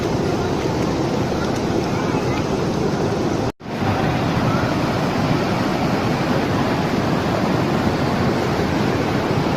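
At Palaruvi waterfall, rushing water roars as a loud, dense, constant wash that cuts out for a brief moment before returning unchanged.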